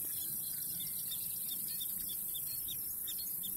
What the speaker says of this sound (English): That's not a bird. It's a prairie dog.